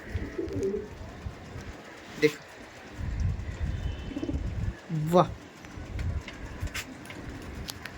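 Pigeons coo at a loft in Howrah, with soft low cooing scattered through the clip beneath a voice and faint breezy background noise.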